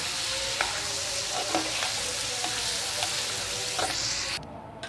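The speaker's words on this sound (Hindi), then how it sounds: "अब मैं पिज़्ज़े के लिए चिकन को भून लूँगी।" Chicken fries in oil with red chilli, salt and chaat masala as pizza topping, giving a loud, continuous crackling sizzle close by that cuts off abruptly at the end.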